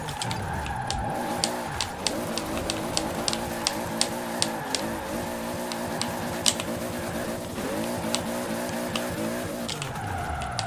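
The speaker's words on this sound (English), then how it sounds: "Yes, that was some good drifting, man." Drifting 1100hp Toyota Supra in Forza Horizon 4, its engine revving and bouncing off the limiter in a steady, continuous drone while tires squeal and skid throughout, with sharp clicks and pops scattered over the whole run.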